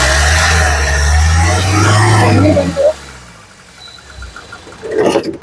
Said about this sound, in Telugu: ఇంజన్ యొక్క నాయిస్ చాలా సైలెంట్ గా అయితే ఉంది